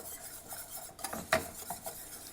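Egg whites being mixed into a cheese soufflé sauce in a bowl: a few soft scraping strokes and one sharper utensil knock near the middle, close by and fairly quiet, with no talking.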